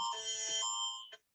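A mobile phone rings with a brief electronic ringtone melody, about a second of bright, layered tones that cut off abruptly, heard alone without talk.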